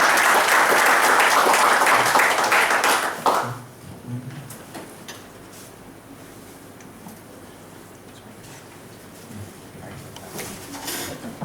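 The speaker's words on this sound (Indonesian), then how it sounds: "Tepuk tangan teman-teman buat Elvis Agency teman-teman ya" An audience claps loudly for Elvis Agency for a few seconds, then the applause drops away abruptly, leaving a quiet room with faint pigeon-like cooing and scattered small knocks.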